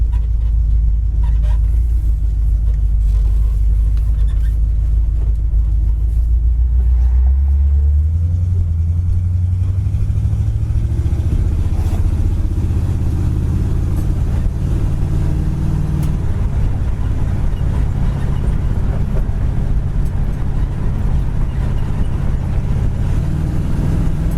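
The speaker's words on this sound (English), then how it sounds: "Car really runs well, goes nice and straight down the road." A 1970 Ford Mustang Mach 1 with a 351 V8 pulls away while driving, its deep engine rumble climbing in pitch through the gears and then settling into a loud, steady cruise drone with road noise.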